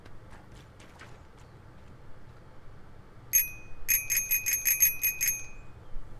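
A bicycle bell rings in Untitled Goose Game, a rapid, bright burst of about eight metallic dings near the end, preceded by light clopping steps over a low ambient bed, with no talking.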